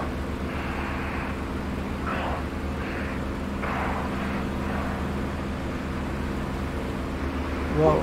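Aircraft engine drone in a flight-sim game holds a steady, loud hum throughout, with soft airy swells drifting through as a plane passes; no speech.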